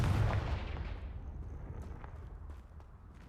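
A Confringo blasting curse explodes in a magic game, a loud booming blast with a rumbling roar that fades over a few seconds into a long, softer decaying tail.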